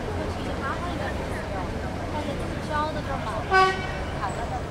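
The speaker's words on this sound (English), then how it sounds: "In China, they use their horns not as a means of saying like, hey, F you, but as a means of saying, hey, I'm here." Car horns toot amid dense Chinese city traffic, with a steady roar of engines underneath and a short, louder honk standing out near the end.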